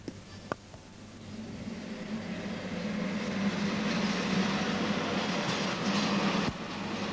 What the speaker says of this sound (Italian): Ecco il treno merci che prima avevamo visto in un'altra stazione passare ora sotto il posto di controllo.